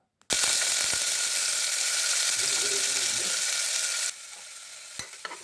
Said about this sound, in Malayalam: ഇനി നമുക്ക് സബോള ഇതിലേക്ക് ഇട്ട് കൊടുക്കാം